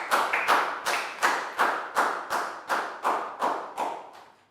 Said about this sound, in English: High five and a big round of applause for Bang bon, please, guys.